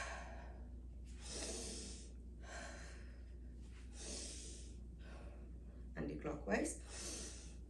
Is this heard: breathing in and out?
yes